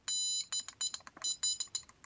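An electronic buzzer on a maker FPGA circuit, used as a doorbell, beeps in rapid, uneven pulses, a harsh high-pitched tone switching on and off repeatedly, loud and close with no talking.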